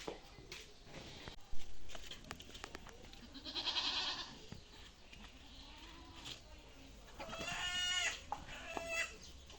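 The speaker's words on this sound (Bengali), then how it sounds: "এখন ছাগলগুলোকে নিয়ে আসি" Black Bengal goats being led out on a farm give a couple of moderately near bleats amid faint farmyard noise that includes some fowl-like clucking, with no speech.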